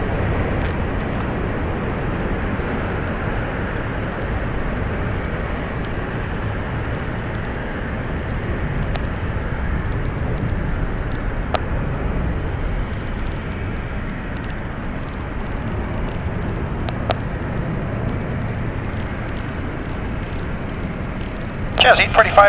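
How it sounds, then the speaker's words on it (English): A 25-year-old Boeing 777-200ER departs San Francisco International Airport, a low, steady jet rumble at a distance that holds for the whole stretch while a voice speaks over it. "Now Airlines Flight 901 departing to London Heathrow. It's a Boeing 777-200ER,"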